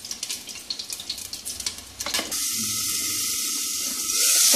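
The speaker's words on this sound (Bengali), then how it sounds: "পটলটা ভাজা হয়ে গেছে" Pointed gourd (parwal) frying in oil in a pan, with a steady loud sizzle that grows stronger toward the end, preceded by scraping stirring sounds.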